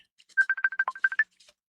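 Telephone ringing with an incoming call from a former high school classmate, a close rapid burst of about ten short electronic ring pulses lasting around one second, loud and alone with no talk.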